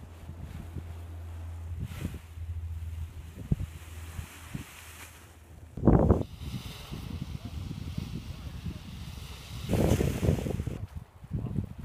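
Wind gusts across a hillside used for soaring and buffet the microphone in rough bursts, with two strong blasts standing out. Voices are heard faintly.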